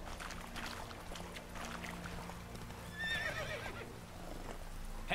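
A horse neighs and its hooves clip-clop while riding in the Witcher 3 video game, with a whinny standing out partway through over a steady low game background.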